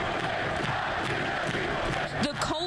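Dense crowd of freezing fans roaring and cheering through the coldest MLS Cup soccer final, a Sporting KC championship in a wind chill of 12, a steady wash of massed voices with a few louder shouts near the end.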